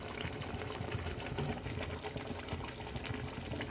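Ghee goes into a pot of egg korma as it cooks, giving a close, continuous bubbling and crackling sizzle at a low, even level.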